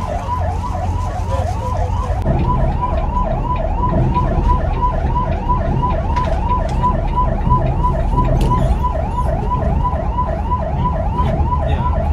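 A police escort vehicle accompanying a bus on a Delhi to Kathmandu journey sounds its siren in a rapid, repeating wail, loud and continuous over rumbling road traffic.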